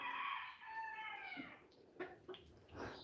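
Chickens clucking outdoors on a smallholding with geese and goats, a few soft, fairly distant clucks and calls in a quiet setting, alone with no talk.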